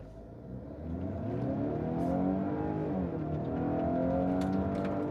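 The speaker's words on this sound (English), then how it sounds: "I'll just put it in dynamic mode and give it some aggressive gas just to see if it's good for merging lanes" A 2022 Range Rover Evoque in dynamic mode accelerates hard, its engine note swelling and climbing steadily in pitch over several seconds, heard close from inside the cabin with no talking.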